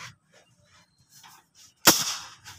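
One sharp, loud bang from a semi-automatic butane-powered gun rings out after near silence, followed by a brief decaying echo.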